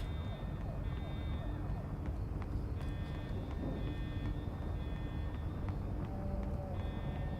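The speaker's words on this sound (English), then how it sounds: "There's a fire alarm going off." In the video game Life is Strange: Reunion, a fire alarm beeps in steady intermittent tones over a dense, continuous roar of background noise, heard throughout the scene.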